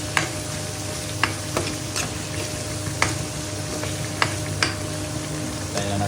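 Meat being stirred as it fries in a hot pan, with a steady sizzle broken by occasional scrape or clatter of the utensil against the pan, close and fairly loud, without talk.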